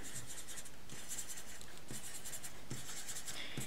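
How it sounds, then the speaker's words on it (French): A coloring pen or marker scratches across the paper face of a paper hexaflexagon, coloring it in blue, in quiet bursts of close, rhythmic rubbing strokes separated by short pauses. "On peut par exemple colorier la première face en bleu"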